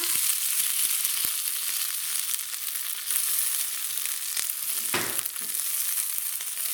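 A good handful of spinach wilts in a hot pan that has been switched off, giving a steady loud sizzle with a few light stirring scrapes.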